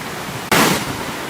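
A hidden waterfall at Oruppan Kettu in a Palakkad forest, Kerala, pours over rocks as a steady hissing rush that jumps suddenly louder midway and stays a close, dense roar with no voices.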